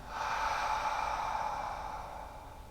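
A slow, steady exhale during a reverse-breathing exercise, a soft airy breath that swells early and fades gradually over about three seconds, close and alone with no talk.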